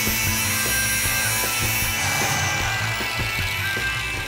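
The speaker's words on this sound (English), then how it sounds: "A few passes with the grinder dresses up the edges." An angle grinder dresses the edges of a fabricated metal center console for a '61 Impala, giving a steady, loud abrasive whir with grinding hiss that runs without a break for the whole stretch.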